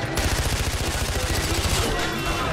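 Rapid automatic gunfire from a gun pulled from under a vehicle dashboard in Far Cry 4, a dense continuous burst of loud shots filling the whole moment.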